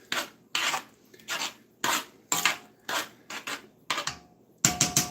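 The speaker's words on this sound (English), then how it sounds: "Now my red peppers, I'll throw them in there too. Give them a stir." Red peppers being stirred into baked beans in a pot, a series of about a dozen rough scraping, rasping strokes in an uneven rhythm, close and clear with no talk.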